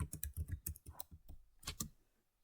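Computer keyboard keys clatter in a short burst of typing while HTML code is written, close and soft, the strokes rapid at first and then slowing to a few final taps.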